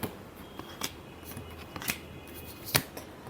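Tarot cards are shuffled by hand in a final shuffle, giving a few quick, crisp riffling snaps, scattered and close, with quiet pauses between.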